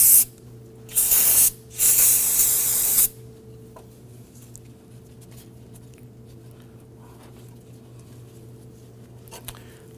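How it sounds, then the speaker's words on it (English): An aerosol solvent can sprays down the engine bay of a 2008-2011 Ford Focus to clean off power steering fluid, giving three loud hissing bursts, then quiet room hum with faint clicks. "let's go ahead and spray down the engine area here"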